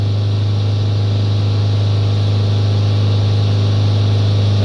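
Iveco Daily 2.3 diesel engine held at 3000 RPM with a clogged particle filter, a loud, steady drone with a strong low hum and no change over the few seconds.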